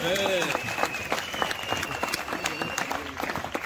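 Guests at a 30th wedding anniversary party clap for the couple. The applause is lively, with distinct claps over crowd murmur, and a voice is heard early on.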